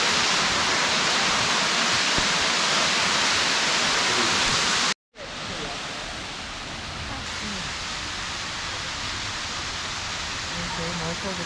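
A waterfall on a hiking trail roars as a steady, loud broadband rush, cut by a brief dropout, then continuing slightly softer.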